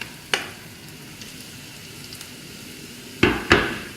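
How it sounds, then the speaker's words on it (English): Turmeric, coriander and chili powder fry in a hot pan for a masala chicken curry, a faint steady sizzle broken by a few sharp clacks of a spoon against the pan. "we are going to add in our turmeric, coriander and chili powder"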